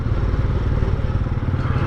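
A motorcycle engine runs steadily while riding in the rain, giving a loud, close, continuous rumble with a throbbing low-end pulse throughout.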